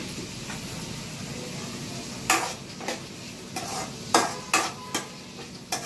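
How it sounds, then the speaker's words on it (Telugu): Onions fry in oil in a pan with a soft background sizzle while a spoon scrapes and knocks against the pan in several sharp, irregular stirring strokes. "కొంచెం ఆయిల్ వేసుకుంటున్నా. ఈ ఉల్లిపాయలు బాగా మగ్గి బ్రౌన్ కలర్లోకి వచ్చిన తర్వాత"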